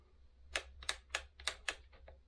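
A paint spray system's trigger clicks seven times in a quick, fairly even run, sharp and close against a quiet low hum, the last two clicks fainter.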